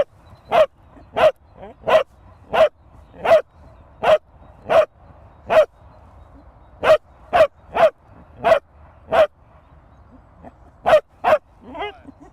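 A dog barks on cue, giving a long run of sharp, loud, close single barks at a steady, slightly uneven pace, with a brief high whine at the very end.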